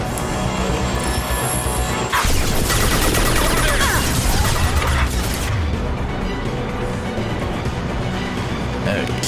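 Weapons loaded with incendiary ammo fire in the sci-fi shooter Mass Effect 2, a dense, noisy clatter of shots and crashing impacts over a steady game-combat din, with voices speaking over it.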